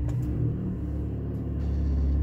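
A 2005 Peugeot 307 S CC with its exhaust back box deleted idles after a cold start, a steady low rumble that swells slightly toward the end, heard close and without voices.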